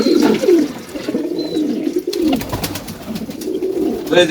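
Domestic pigeons coo in low, rolling throaty calls that repeat and overlap, close and steady, with faint splashing of water in the background.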